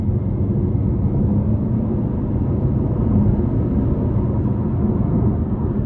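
Inside a 2024 Chevrolet Malibu 1LT with a 1.5-liter turbo engine and CVT, a low, steady engine and road rumble builds gently under light throttle, muffled and continuous with no talk.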